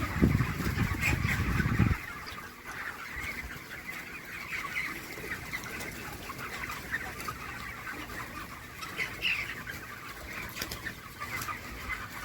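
Many broiler chickens in a poultry farm cluck and chatter continuously at a distance, with a louder rustling burst at the start, forming a steady poultry-house din.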